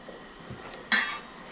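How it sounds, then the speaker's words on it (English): A single metallic clink as a steamer basket is set onto a pot for steaming frozen dim sum, a short bright clatter against quiet background. "so I'm gonna put my little steamer on top"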